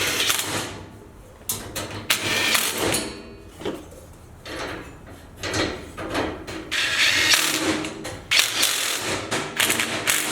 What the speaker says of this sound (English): So I'm gonna use an end wrench to do the final tightening.